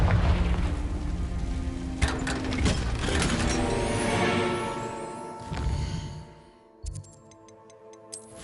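Confringo blasting spells in the video game Hogwarts Legacy, a dense rumbling burst with crackling debris and ticking clatter that fades out into a few faint clicks.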